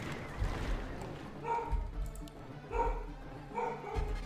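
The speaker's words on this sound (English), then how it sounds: "It's my dog barking, of course." A dog barks in short bursts of two or three, fairly near, over a low background hum while a strategy game is being played.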